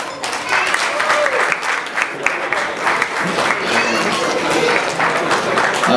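An audience at a silver jubilee celebration in a physical education department applauds as someone is called to the stage, clapping swelling and holding steady for several seconds while a voice speaks over it.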